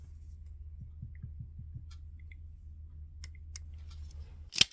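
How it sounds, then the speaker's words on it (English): Cutters snip through the display cable of a Peugeot 308CC pop-up screen: a few quiet, sharp clicks over a low steady hum, ending in one louder crisp snip. "Cut the cable and strip out each wire inside."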